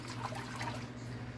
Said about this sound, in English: You have to fill the bowl with water. Agitate the kale.